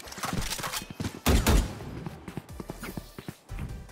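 Rapid gunfire bursts from the tactical shooter game Valorant, repeated shots clustered with a louder burst near the middle, mixed with game effects and footstep-like clicks.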